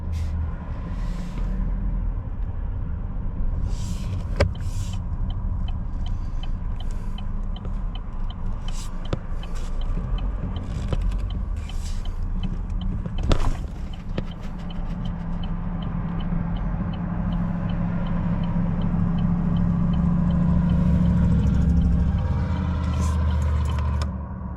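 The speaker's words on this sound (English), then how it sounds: "That surging was in the car. I was hitting the throttle to try to keep it alive." Chevy Malibu engine surges unevenly as the throttle is repeatedly hit to keep it running, a continuous low rumble with rising swells and scattered clicks and knocks, heard from inside the car.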